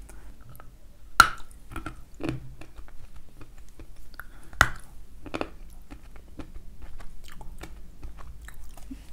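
Waxy Kyrgyz toffee being bitten and chewed up close, with a few sharp sticky crunches followed by quieter, wet, slow chewing in a silent room.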